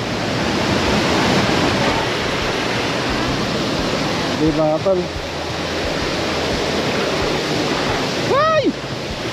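Balagbag Falls, a waterfall in Real, Quezon, crashes with a loud, steady roar of pounding water throughout, while people speak briefly over it.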